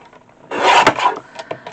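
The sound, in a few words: trimming scrap cardstock down to size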